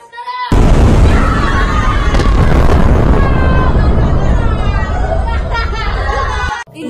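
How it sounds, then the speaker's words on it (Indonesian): Loud, dense noise of gunfire bursts and booms mixed with a crowd's shouting and babble in a village, continuous and chaotic for several seconds before stopping suddenly. "Suasana desa kini pun hanya suara tembakan dan sangat gaduh."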